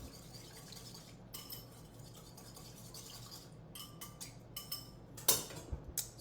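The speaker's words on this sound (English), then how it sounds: "we'll give it a whisk, just to incorporate the olive oil and the vinegar" A wire whisk scrapes and clinks against a bowl, blending olive oil and vinegar in quick, faint tapping bursts that grow louder near the end.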